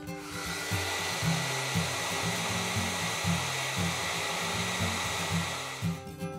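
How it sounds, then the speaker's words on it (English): A blow dryer on high heat blasts at crayons to melt them, a loud, continuous close-up roar throughout. A faint low rhythmic pattern sits underneath, and no one speaks. "it's time to use your blow dryer. You're gonna put it on high heat"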